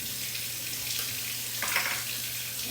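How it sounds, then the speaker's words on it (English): Tap water gushes into containers in a steady, fairly loud rush from the faucet, with a brief louder splash partway through and no speech. "Now I'm going to fill these with water."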